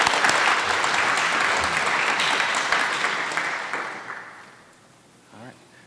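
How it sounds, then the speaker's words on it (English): Audience applause at a flight academy graduation ceremony, a loud dense clapping that fades steadily over several seconds, with a voice briefly heard near the end. "So please give them a round of applause."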